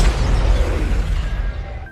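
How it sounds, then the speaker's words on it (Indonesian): In the animated film Big Hero 6, a burning building explodes. A loud, close boom with a heavy low rumble slowly decays over about two seconds, with no voices. "Gedung tersebut meledak saat setelah Tadashi memasukinya, dan Tadashi tewas dalam peristiwa tersebut"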